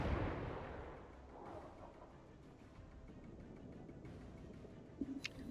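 Naval guns fire in the World of Warships video game, a deep booming blast that rolls off and fades over a couple of seconds, followed later by a few faint distant thumps.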